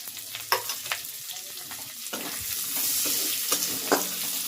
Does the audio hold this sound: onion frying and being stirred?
yes